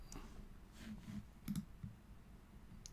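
A single computer mouse click on a Save button, a short soft tick heard alone in a quiet room among a few other faint clicks.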